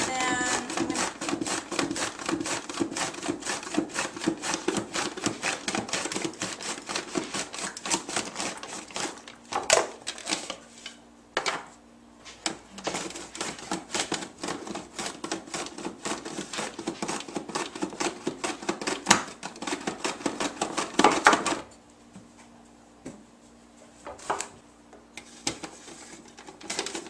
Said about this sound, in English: Alright, so we're going to get the zucchini cut up.